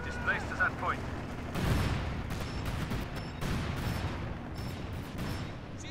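Cannon fire and explosions in a World War II tank battle game, with a British Achilles tank destroyer firing on a tank: several heavy booms and rumbling blasts, with faint talk and other noise in between.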